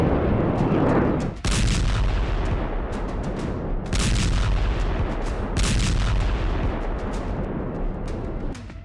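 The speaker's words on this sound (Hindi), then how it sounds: "इसी बम गोलों से बेरूत में नॉन स्टॉप धमाके हो रहे हैं।" Bombs and shells explode in Beirut as a loud, dense barrage. Deep rumbling booms overlap without pause, with sharper cracks bursting through now and then.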